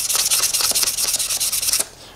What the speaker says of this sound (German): mit einem etwas groberen Schleifpapier einfach hier schräg über die Kante drüber schleifen, damit ihr die Kante etwas bricht